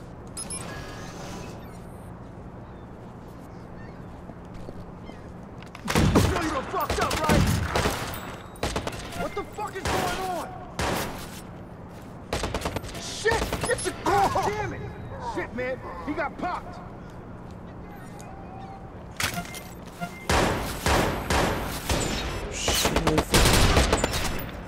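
Bursts of gunfire from a gun in the video game Watch Dogs, loud volleys coming in clusters with quiet stretches between, under steady background noise.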